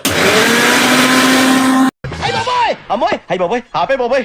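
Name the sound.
mixer grinder grinding coriander, mint, chili, ginger paste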